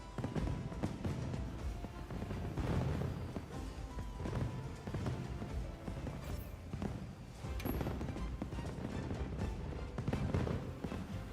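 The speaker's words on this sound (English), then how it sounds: "Fireworks light up the sky." Fireworks burst over a summer beach in the video game Monster Hunter Wilds, a faint run of repeated pops and crackles spread across the whole stretch, with no talking.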